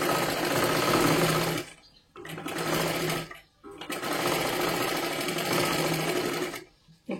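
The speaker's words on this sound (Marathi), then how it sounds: "आता ह्याच्यावरतीच परत आपल्याला एक डबल शिलाई मारायची आहे" Sewing machine running a double line of stitching on a blouse, loud and steady in three long bursts separated by short pauses, with no talking.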